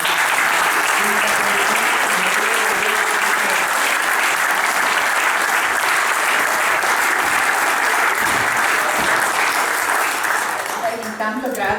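Loud, sustained applause from an evening campaign audience in Portogruaro greets a mayoral candidate, a dense unbroken wall of clapping lasting about twelve seconds and thinning slightly at the very end.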